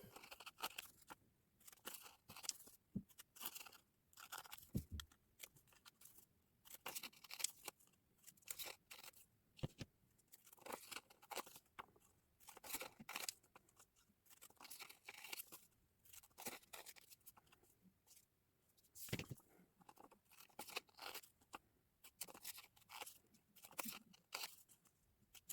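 Scissors snip through paper, cutting out stars for a Christmas paper star garland, with close, crisp clustered cuts and short crunching pauses throughout, no talking.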